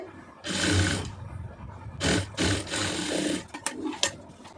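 A sewing machine stitches a straight churidar seam in a few short bursts of whirring separated by pauses, ending with small clicks, close and fairly loud.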